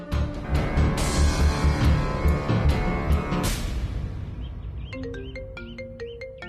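A phone ringtone plays for an incoming call, a loud rhythmic musical tune with a driving beat that gives way to a lighter chiming melody, sounding on its own.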